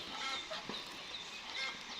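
A flock of several hundred chickens clucks and chatters steadily at mid distance, with scattered higher calls over a dense, continuous barnyard murmur.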